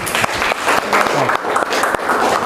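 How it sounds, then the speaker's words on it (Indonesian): A university class gives a short burst of clapping, many hands applauding together at close range for a couple of seconds. "Tasfiq lahu, tepuk tangan dulu."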